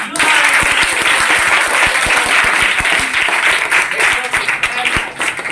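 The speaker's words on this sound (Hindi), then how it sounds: "अपने लिए जोरदार ताली" Loud, vigorous applause from an audience at a spoken English class, with a thick wash of many hands clapping steadily for over five seconds and sharp individual claps standing out.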